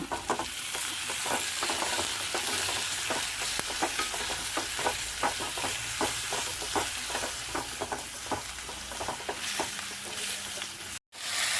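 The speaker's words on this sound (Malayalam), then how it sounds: "നമുക്ക് തക്കാളി ഇടാം" Chopped tomatoes and cut chillies sizzle steadily in a hot pan while a spoon stirs in a quick, regular rhythm, loud and close, before the sound cuts out briefly at the end.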